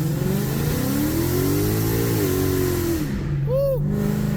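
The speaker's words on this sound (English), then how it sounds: "We're gonna go like higher RPMs because that's where it was struggling last time." A 2017 Mustang GT engine revs hard to higher RPM, loud and close, with a steady roar that climbs and falls across the clip before dropping back toward idle.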